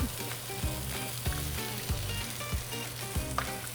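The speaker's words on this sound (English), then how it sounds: "in the back half of our flat top, I'm gonna cook our eggs. So we're gonna cook them sunny side up" Eggs frying sunny side up on the back half of a flat top griddle sizzle steadily and loudly throughout, with a few soft rhythmic scrapes and taps recurring about every half second.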